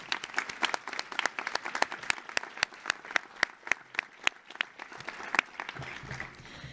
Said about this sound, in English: Can we please give a round of applause to these 9 members?